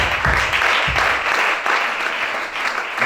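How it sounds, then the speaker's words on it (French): A church congregation at a Gabonese worship service bursts into loud, sustained applause, dense clapping filling the room close by from start to finish. "Acclamez ça."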